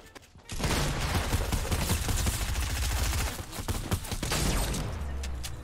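Sustained Fortnite gunfire, a steady rapid stream of shots in close succession lasting several seconds, loud and largely free of talk.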